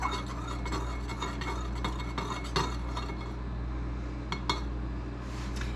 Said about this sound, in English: Now I'm going to take my little knife I used earlier and just stir that up.